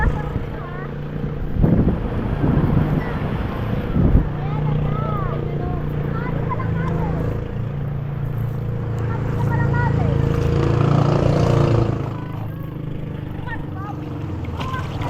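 Motorboat (bangka) on choppy water with wind buffeting the microphone, a steady low engine drone under rushing wind, with people talking nearby throughout.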